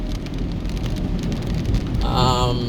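Rain drums on a car during a drive from Half Way Tree in traffic, a close, dense patter with a low rumble underneath, and a brief warbling tonal chirp near the end.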